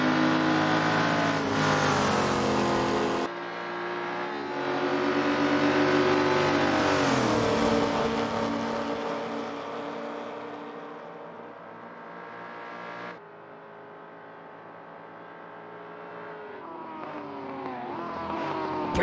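Race cars, including a Mustang, tear down the long back straight of a British Saloon Car Championship round in Assetto Corsa. Loud, sustained engine roar climbs in pitch, drops at gear shifts and climbs again, with no talk.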